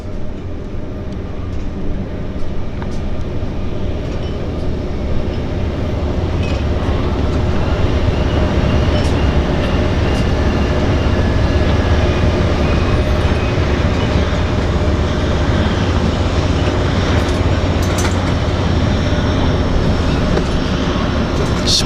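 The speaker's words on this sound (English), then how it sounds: "as one departs, we have one arriving." A floatplane arriving over Vancouver's downtown harbour gives off a steady, broad engine drone that swells slightly in loudness. The rumble is continuous and fairly close throughout.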